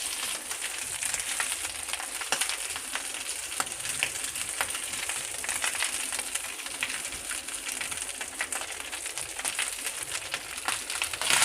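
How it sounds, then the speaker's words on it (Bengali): Rice tossed and stirred in a frying pan with cumin for jeera rice, a steady hiss of sizzling with scraping and stirring throughout, close and continuous with no talk. "এটাকে আস্তে আস্তে এবার আমি নেড়ে দেবো। আর একটু ভাত দেবো আমি।"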